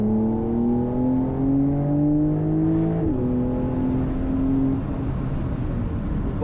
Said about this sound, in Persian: ببینید چطوری دنده رو کم میکنه